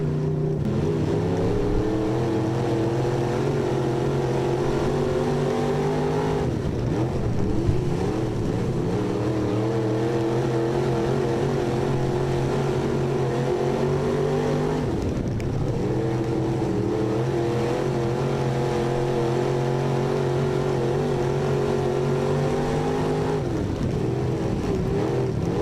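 Race car engine at Maquoketa Speedway, a loud continuous droning engine note that dips and climbs again as it comes off each corner, repeating in cycles of roughly eight seconds, heard from on board with no talk.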